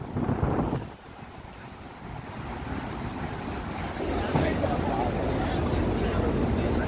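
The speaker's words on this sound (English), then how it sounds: "I know that you could hear the wind. It's a little windy down here." Blustery wind buffets the microphone in a steady roar on a New York City street walk from Herald Square, with gusts swelling and easing. Water or surf noise sits underneath, and voices may be faintly present.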